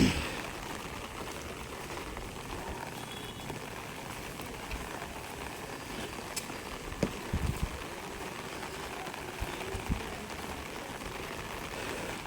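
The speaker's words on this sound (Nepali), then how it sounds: "बर्खा लागे जस्तो भयो पुरा पानी परेर" Rain pours steadily outdoors in dark, misty weather, a dense, even patter that continues unbroken and fairly close, with a few brief faint knocks and drips standing out.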